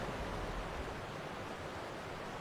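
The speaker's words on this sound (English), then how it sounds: "We just went through a waterfall." Soft, steady rushing wash of a waterfall in the video game Second Life, near a cave complex in a redwood forest park, a constant broadband hiss heard alone at low level.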